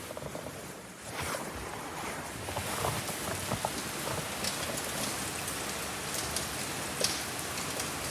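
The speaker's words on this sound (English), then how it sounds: "Tokyo in the Rain" Rain falling in Tokyo makes a steady, soft wash of hiss with a few sharper drips landing nearby, unbroken and fairly quiet, with no voices.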